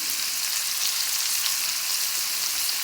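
Chopped onions fry on a hot tawa for street-style egg masala, giving a dense, even, loud sizzle that crackles steadily without pause or voices.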